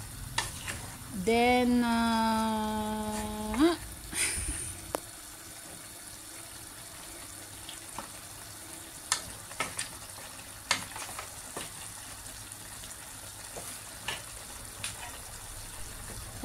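Okra and chicken liver adobo with chili sizzles steadily in a pan while being stirred, with scattered light clicks of the utensil; a voice speaks briefly at the start before the frying continues alone.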